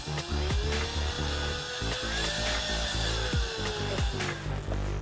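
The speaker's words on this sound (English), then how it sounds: "And drill another hole, like so." Power drill boring a hole through the plastic case of a Magnavox Odyssey 2 console, a steady whirring grind with a few sharp clicks and pitch shifts as the bit bites, loud and close.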